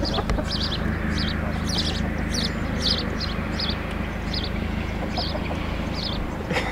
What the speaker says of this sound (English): there's just chickens chilling